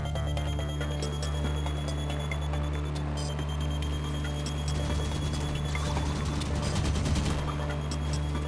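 Turret gunfire in Halo 5: Guardians multiplayer, rapid repeated shots over a steady droning hum, growing busier and denser in the second half.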